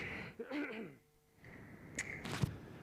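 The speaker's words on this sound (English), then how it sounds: "So I'm just going to clear my throat." Someone clears their throat with a few rough, raspy bursts, close to the microphone, followed by a short pause and a couple more faint throaty sounds.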